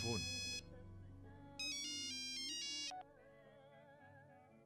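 An electronic phone ringtone plays in bursts of bright melodic tones, with low background music beneath.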